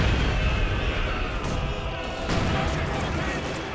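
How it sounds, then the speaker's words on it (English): Battle noise from Company of Heroes 2, a 2v2 real-time strategy match, with dense, continuous gunfire and heavy booms blended with game sound, while a caster's voice is partly heard alongside. "They're quite exposed to a lot of heavy fire."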